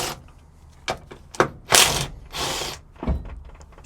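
A wrench ratchets on the strut hat bolts of a Suzuki Carry mini truck, giving a few short metallic clicks and scrapes with gaps between, close and fairly quiet.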